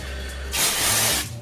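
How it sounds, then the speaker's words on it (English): An aerosol can of brake cleaner sprays a single close, loud burst of hiss lasting under a second while cleaning a Cryorig H7 CPU cooler, then cuts off abruptly. "Spray a bit over here."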